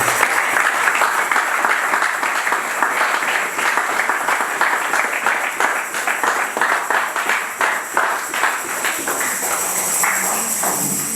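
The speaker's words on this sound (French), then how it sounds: "Acclamons pour la gloire de notre Dieu." A church congregation applauds during a French-language worship service, a dense, steady wash of many hands clapping that grows more rhythmic and distinctly pulsed toward the end, with no speech over it.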